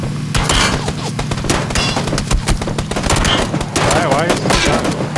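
Rapid bursts of automatic gunfire crackle close and loud in PUBG as players come under fire, dense overlapping shots with glassy impacts and players talking over the barrage.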